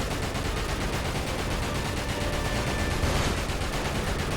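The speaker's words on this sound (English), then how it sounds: "I've been shooting at you for ages." Dense continuous gunfire at helicopters in the video game FF7 Dirge of Cerberus, a rapid rattling stream of shots with explosions mixed in, loud and unbroken throughout.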